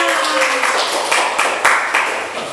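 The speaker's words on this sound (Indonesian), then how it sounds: "Oh iya, boleh tepuk tangan Isna." A classroom of students claps hands together during a religious history lesson, a brief burst of dense, close applause with a few sharper individual claps standing out.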